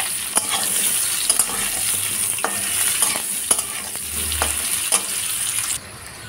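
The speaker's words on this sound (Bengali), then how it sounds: "ওই তেলের মধ্যে কেটে ধুয়ে রাখা আলুগুলো দিয়ে দেব। আলুগুলো লাল লাল করে ভেজে নেব।" Cut, washed potatoes fry in hot oil in a pan, a steady close sizzle broken by occasional sharp clicks and scrapes of stirring, with no voices.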